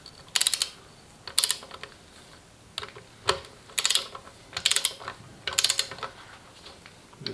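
Torque wrench tightening engine bearing cap bolts during a Cub Lo-Boy C60 engine assembly, heard as short bursts of ratcheting clicks repeated at intervals, close and crisp against a quiet room.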